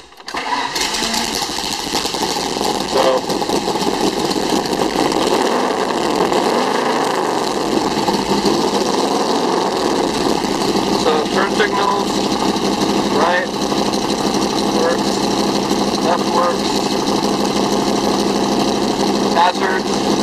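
A 1965 Factory Five Cobra engine idles close by, a steady, continuous rumble with a buzzy upper edge that holds even for the whole stretch.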